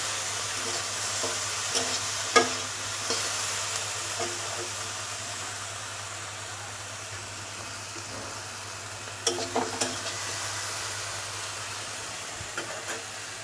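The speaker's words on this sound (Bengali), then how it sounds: "এখন আমি একটু আগুনটা বাড়িয়ে দিচ্ছি শাকটা ভাজা হওয়ার জন্য কাঁঠালের লুচিটা আমি ভেজে নিচ্ছি" Jute leaves and boiled jackfruit seeds fry in a hot pan, giving a soft continuous sizzle with occasional scraping stirs and clinks of the spoon, close and fairly quiet with no talk.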